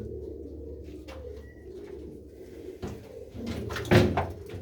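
Pigeons, prized racing birds in a loft, coo in low soft bursts over a steady low hum, with a couple of knocks and a louder burst near the end; no one talks.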